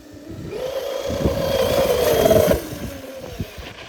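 A Traxxas Slash 2WD RC truck fitted with large 2.8-inch belted paddle tires revs up at full throttle, its electric whine rising for about two seconds and then cutting off, close by and alone.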